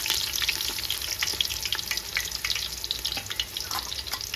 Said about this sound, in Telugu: ఇప్పుడు కట్ చేసుకున్న ఉల్లిగడ్డలు వేసుకుందాం.